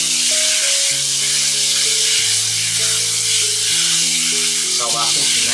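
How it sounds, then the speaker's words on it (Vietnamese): Venison sizzling as it is stir-fried in hot cooking oil with minced garlic, a loud, steady frying hiss close by, with music playing over it. "Mình xào cho thịt nai nó săn lại."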